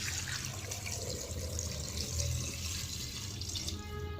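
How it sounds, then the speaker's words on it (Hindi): Water runs and splashes steadily into a cooking pot holding goat trotters (mutton paya), a close, continuous gushing pour with no pauses. "अब मैं इसके अंदर पानी ऐड कर दूँगी"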